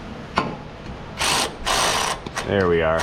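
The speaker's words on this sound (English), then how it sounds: "Let's get my ratchet in there and we'll run that guy down." A ratchet spins a bolt down on an FJ Cruiser under repair in two loud bursts of rapid clicking, followed by someone speaking briefly nearby.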